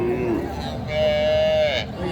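A Friesian cow with her calf gives a drawn-out moo, fairly close, amid livestock-market background noise and people talking.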